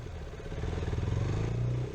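Motorcycle engine braking through Kathmandu traffic, a close, rising engine drone with clattering mechanical noise, steady and loud throughout.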